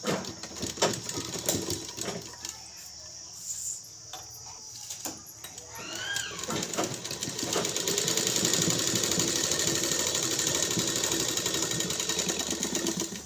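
Sewing machine stitching a folded fabric edge, a steady fast mechanical rattle that runs almost throughout and grows louder and denser in the second half.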